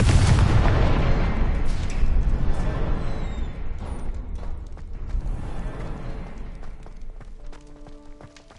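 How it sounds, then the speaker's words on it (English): Confringo fire blast spell in Hogwarts Legacy goes off as a loud, close explosive boom with crackling debris, then a long rumbling tail that slowly dies away amid scattered lighter pops and game ambience. "Confringo."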